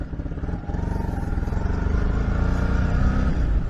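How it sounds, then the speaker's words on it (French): A motorcycle passes on a coastal road between Port-en-Bessin and Arromanches, its engine burbling in a rapid, steady pulse that builds louder and stays close throughout. "Oh, une moto."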